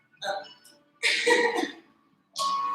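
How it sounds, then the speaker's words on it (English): Three bursts of throat-clearing coughs separated by short silences, close and fairly loud, with raspy breathy tails. "We have some fun coughing going on."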